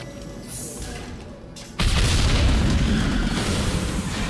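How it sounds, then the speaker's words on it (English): Tanks blow up in Mass Effect 2, a heavy sudden boom at under two seconds that swells into a loud, sustained rumbling roar over a game soundscape. "Take heavier weapons than that to blow those tanks."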